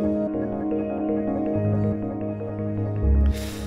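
A sustained harmonic signal is processed through a Rainmaker delay effect whose taps add repeating rhythmic pulses over it, ending in a short burst of noisy hiss.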